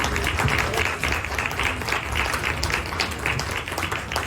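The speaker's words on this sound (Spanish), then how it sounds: "pido un gran aplauso de nuevo para Óscar y para la editorial Loto" Audience at a book presentation for a publishing house applauds, a dense, steady patter of many hands clapping at moderate loudness, continuing evenly throughout without speech.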